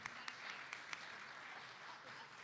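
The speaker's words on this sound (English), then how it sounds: "Give a huge round of applause for Pedro, Sydney, and Bethany." An audience claps after a debate, a faint, steady wash of applause with a few sharper individual claps standing out near the start.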